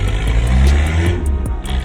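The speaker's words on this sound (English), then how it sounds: "That is a leaking exhaust." A car idling with a leaking exhaust, a close, loud low rumble with rapid uneven puffing pulses and faint ticking, heard alone for about two seconds.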